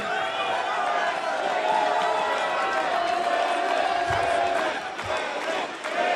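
A professional wrestling crowd at an ROH TV Championship match roars and cheers in a dense, steady wall of noise, swelling slightly midway, with a commentator talking over it.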